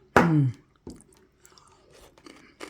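White kimchi being chewed at close range, a few soft wet crunches and mouth sounds after a brief voiced hum, fairly quiet and intimate.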